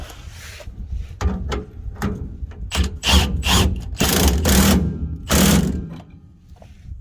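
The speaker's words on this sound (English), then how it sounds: "So we can just hold that with the wrench and get it tightened down." Ratcheting wrench tightening the 21mm rear shock bolt on a 2018 Chevrolet Silverado, a series of quick metallic clicking bursts in uneven rhythm, close and fairly loud, with no talking.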